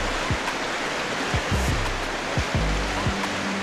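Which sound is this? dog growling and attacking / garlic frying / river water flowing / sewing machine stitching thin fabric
river water flowing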